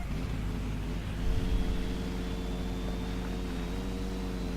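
A steady engine drone hums continuously with a low, even rumble and a faint rising whine, briefly swelling once early on.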